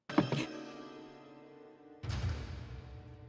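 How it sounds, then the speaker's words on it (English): A sudden thud in a night scene from the 1988 horror film Child's Play: a sharp impact at the start, then a quieter stretch with a musical tone, and a second dull blow with a resonant tail near the end. "Then she hears a thud and it scares her."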